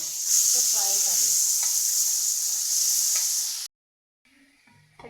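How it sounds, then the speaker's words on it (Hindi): Chicken fries in a pot with green and black cardamom, hissing and sizzling loudly with a few light stirring scrapes, then cutting off abruptly into near silence. "इसी में मैं चिकन को फ्राई करूँगी।"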